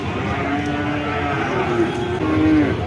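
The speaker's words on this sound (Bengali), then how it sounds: "সবগুলো সিন্ধি জাতের বাছুর" A Sindhi-breed calf moos in a long, low, drawn-out call at a cattle market in Chougachha, Jessore, close by and fairly loud, with faint background murmur.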